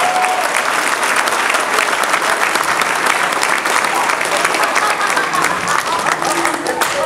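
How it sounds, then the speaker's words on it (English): Sustained, loud applause from a large audience at an Army keynote address, a dense, even wash of clapping lasting several seconds with no pauses. "give yourselves a big round of applause"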